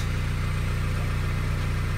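A Honda Civic Type R (EP3) engine idles steadily nearby with a low, even rumble and a regular pulsing throb.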